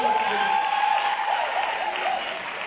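A crowd applauds in a dense, continuous patter at a season 3 premiere screening of a TV series in Côte d'Ivoire, loud and sustained, with a voice speaking over it.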